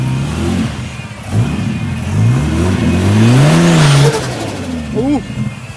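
A turbo car at a street car meet revs hard during a burnout, its engine note rising and swooping through several loud pulls close by, with people talking and shouting over it.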